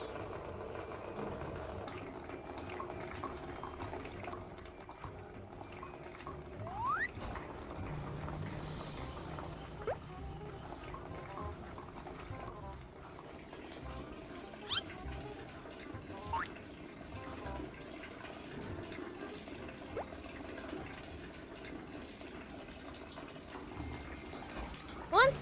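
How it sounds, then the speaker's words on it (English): Water gushes from a turned tap into a bathtub in a steady, moderately loud fill, with faint tonal sounds and brief knocks scattered over it. "And used her tiny feet to turn the handle. Water rushed into the tub."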